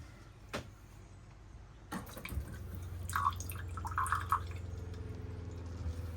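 Filtered canal water runs from a DIY filtration system into its third stage. A soft trickle and splashing swell after a few knocks and continue steadily, close and moderately quiet.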